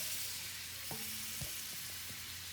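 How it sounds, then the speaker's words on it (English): Soft, steady frying hiss of butter sizzling in a pot, with a few faint clinks and scrapes, no voices. "turn your butter around in the pot, make sure it sizzles a little bit"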